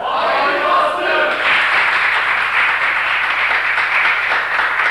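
Loud studio audience applause on a 1992 Turkish television game show, a dense, sustained roar of clapping and cheering filling the room close up, with voices shouting over the start.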